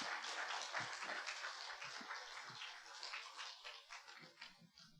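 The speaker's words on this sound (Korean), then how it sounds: "우리 다시 한번 격려의 박수 한번 보내드리겠습니다." A church congregation at a Sunday service claps in encouragement after an elderly choir's performance, a soft, somewhat distant patter of many hands that gradually thins out.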